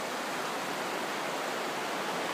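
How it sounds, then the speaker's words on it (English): Rushing river rapids, a good spot for kayaking, give a steady broadband roar with no break, heard from above along a snowy, icy riverbank. "Nice rapids down there. Nice sounds."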